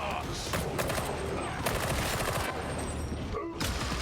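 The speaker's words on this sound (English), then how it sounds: "They're shooting me with lasers." Rapid laser gunfire in the Warhammer 40K Darktide video game, dense overlapping bursts of shots filling the whole stretch, with a player's voice reacting over the firing.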